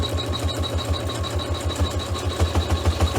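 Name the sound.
sewing machine stitching chenille hot pad outline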